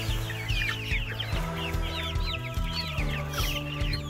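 A flock of about sixty Araucana (cheonggye) chickens gathers close for fed greens, clucking and chattering continuously in overlapping calls, near and moderately loud.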